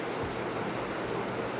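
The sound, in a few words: light wind and drizzle outdoors by a wetland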